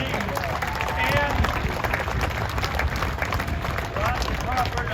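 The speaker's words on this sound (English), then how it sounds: "All right, a big round of applause, if you will, for the entire A-10 Demo team." A crowd at the Cleveland Airshow applauds the A-10 Demo team with steady, dense clapping that carries across open ground, mixed with crowd noise and some talking.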